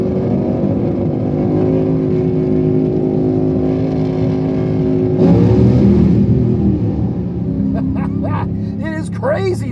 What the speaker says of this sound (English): It is crazy down here with these guys taking off. That's top, I think that's Top Alcohol Dragster running right there.